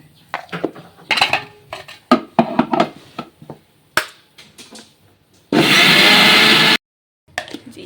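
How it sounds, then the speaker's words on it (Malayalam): An electric mixer grinder blends curry paste of coconut, cumin and small onions in a home kitchen. Sharp knocks and clatter come first, then one loud grinder burst runs about a second and stops abruptly. "കറിക്കുള്ള അരപ്പ് ഇത് നമ്മൾ അരക്കുക കേട്ടോ"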